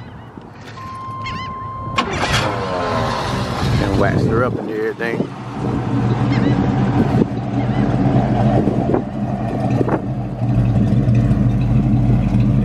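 A 1984 Buick Regal engine cranks with a whirring starter and fires up, then settles into a loud, steady rumbling idle close by while someone talks over it.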